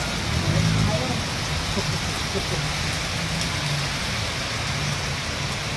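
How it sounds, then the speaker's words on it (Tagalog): Heavy typhoon rain pours down in a dense, continuous wash, with some low rumbling underneath and a brief louder surge near the start. "Ang lakas na ng ulan."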